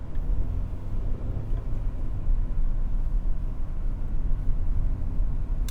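A 1994 Honda Prelude engine pulls steadily uphill in 4th gear, a low, even rumble with road noise that holds at a moderate level throughout, with no talking.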